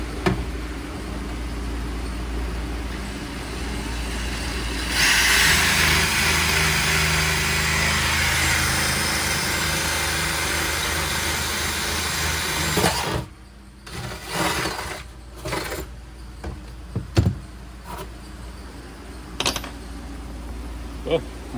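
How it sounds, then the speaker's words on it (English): Cordless power drill with dull bits boring holes in a small skiff's hull, a long grinding whine of several seconds followed by short bursts and sharp scraping stops, with background noise underneath. "Oh, my drill bits suck. Super dull."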